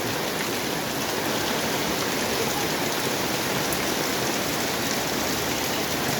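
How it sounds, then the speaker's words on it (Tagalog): Heavy typhoon rain pours down steadily and without a break, a dense, even hiss of water falling on surfaces all around, on a dark, flooded street. "Grabe, tuloy-tuloy yung pag-ulan niya eh."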